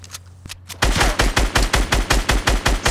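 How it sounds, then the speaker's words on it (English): Rapid automatic weapon fire in the Fortnite video game, a loud, evenly spaced string of heavy shots following a brief quieter moment. "shoot rockets where I'm shooting"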